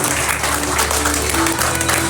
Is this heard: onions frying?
no